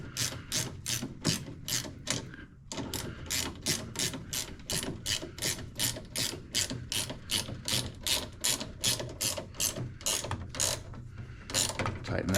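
A ratchet tool clicks in rapid, steady bursts while the self-propel drive cable is tightened on a battery-operated Toro Recycler lawn mower. The close ratcheting runs almost continuously, with one brief pause.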